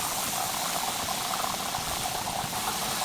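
Red peppers and browning mushrooms in a hot pan, a steady, close, even sizzle that continues without break and without talk.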